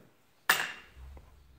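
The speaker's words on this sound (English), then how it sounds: "Drill a hole, pound it in, turn it out." A single sharp metallic strike rings out as a hammer drives a punch during a Subaru radiator and thermostat replacement, close and loud, with a brief ring and a soft clunk afterward.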